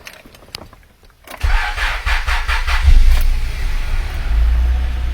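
A car that has sat unused for weeks with a weak battery cranks briefly on a NOCO Boost GB40 jump starter, then catches with a sputtering roar and settles into a steady, close idle.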